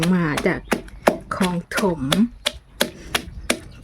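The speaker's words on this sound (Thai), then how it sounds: "ตะไคร้นะคะ เรามาตำกันเลย" Repeated sharp thuds of a pestle pounding lemongrass in a mortar, in an uneven steady rhythm, while someone talks over them in Thai.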